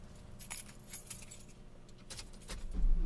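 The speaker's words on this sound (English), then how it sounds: "How did the keys end up on this side?" Soft, faint jingling of keys in a 3D sound experience, several light metallic jangles and rattles, close and quiet, with a duller bump near the end.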